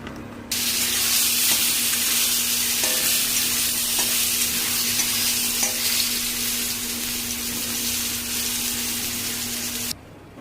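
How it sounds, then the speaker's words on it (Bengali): Pointed gourd (potol) pieces fry in a pan with a steady, loud, close sizzle that runs unbroken for about ten seconds, with occasional faint clicks of stirring and no talk. "প্রথমে পটলটা ভেজে নেব"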